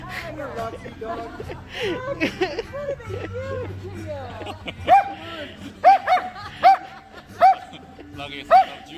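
An Australian Shepherd at a ski resort lets out a series of sharp, evenly spaced barks, loud and close, after a stretch where people chat and laugh around it.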